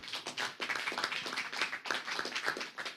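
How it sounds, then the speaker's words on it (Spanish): Applause from a conference audience sending off a panel of speakers, a steady patter of many hands clapping at moderate distance, fairly soft and continuous with no talk over it. "a los que despedimos con un aplauso vigoroso"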